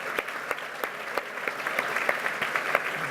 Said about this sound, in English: Could you have one more round of applause for the staff of Cooper Hewitt?